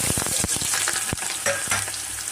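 Onions dropped into hot oil in a pot for a country chicken curry, a loud dense sizzle with crackling spatter bursts throughout, close and with no voices.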